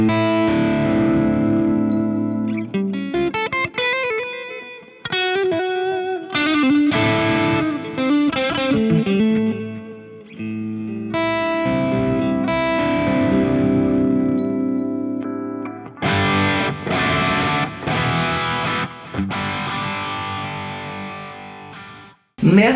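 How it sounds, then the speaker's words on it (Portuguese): An electric guitar driven through an overdrive pedal plays alone, with loud, gritty distorted chords and riffs that come in bursts with short pauses, tails ringing out between phrases. "eu somo um outro overdrive para empurrar esse timbre"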